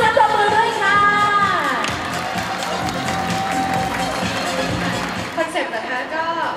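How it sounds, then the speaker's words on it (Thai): An audience at an iPhone 4S launch event applauds and cheers loudly, with whoops and shouts over dense clapping as a voice speaks over the crowd. "ขอเสียงปรบมือด้วยค่ะ"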